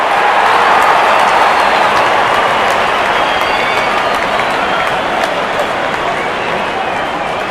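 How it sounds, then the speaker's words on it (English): Crowd at a cricket stadium during an India versus Australia T20 match, a dense, steady roar of cheering and applause that stays loud throughout, with a commentator talking over it. "The crowd is enjoying every bit of this action."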